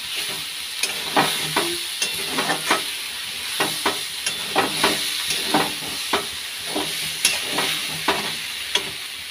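Boiled potato fries in a hot pan with a steady sizzle while a utensil stirs it, the scrapes and clinks coming in irregular bursts close up.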